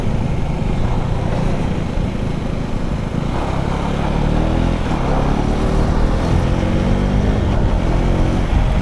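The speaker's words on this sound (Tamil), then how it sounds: "வண்டி கரபுரன்னுக்குதுங்க" A motorcycle rattles and drones steadily while riding downhill on the forest route from Munnar toward Idukki, with loud engine rumble and wind buffeting throughout.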